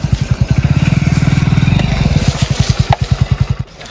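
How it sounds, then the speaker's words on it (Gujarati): Motorcycle engine pulling up nearby with a loud, close, rapid putt-putt beat that swells and steadies, then eases into a slower idle thump near the end; no voices over it. "બાઈક આવી ગયું લ્યો આવી ગયું ચાલ"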